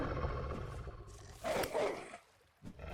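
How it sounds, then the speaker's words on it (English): Wolves in the survival game Vintage Story give a rough, roaring growl that swells and fades, with a short gap of near quiet before another snarl rises at the end. "I hear wolves."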